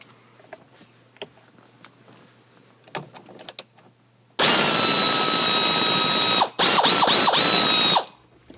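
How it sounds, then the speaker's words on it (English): An air tool rattles loudly against bolts on a vehicle cab, a dense buzzing ratchet burst of about two seconds, a short pause, then a second burst, after quiet handling clicks. "You don't have to use air tools, I'm just using it to speed up the process."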